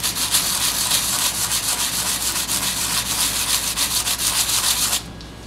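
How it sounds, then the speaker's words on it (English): Sandpaper rubs against a carved Chinese name seal in quick, even back-and-forth strokes, a close, loud, raspy scratching that stops abruptly near the end. "You can also use sandpaper to erase"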